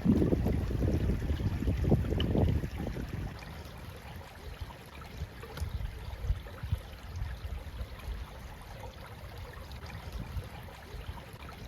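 Running water trickles and rushes faintly through low-lying ground in Ottawa's Marlborough Forest in late winter, a soft steady wash heard from a distance, with gusty wind buffeting the microphone in the first few seconds.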